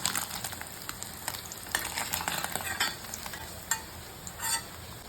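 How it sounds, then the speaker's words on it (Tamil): Paneer pieces deep-fry in a pan of hot oil. A continuous bubbling hiss runs under scattered clicks and scrapes of a spoon moving the pieces. "இதே மாதிரி எல்லா பணியரையும் பொறிச்சு எடுத்துக்கலாம்"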